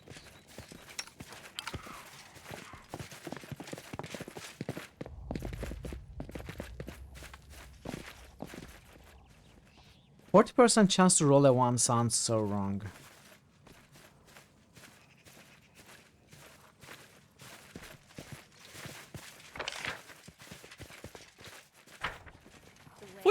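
Footsteps pad through a scene in Pathfinder: Kingmaker, a steady run of soft, close steps with a brief louder burst partway through, under a voice that speaks at intervals.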